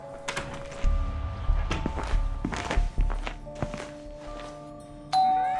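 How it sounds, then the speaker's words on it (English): A doorbell chimes in the video game SchoolBoy Runaway, its tones ringing over repeated thuds and footstep-like knocks, with a brighter chime rising near the end. "Sixth doorbell."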